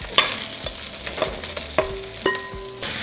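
Beef browning in hot oil in a wok gives a steady sizzle and fry, broken by several sharp scrapes and clinks of a utensil stirring against the metal, with no talking.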